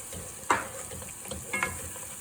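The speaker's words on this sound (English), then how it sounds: "you want to stir that right away, so it kind of gets scrambled in there" An egg stirred and scrambled in a hot frying pan, with a soft steady sizzle under a couple of brief scraping stirs, close and fairly quiet.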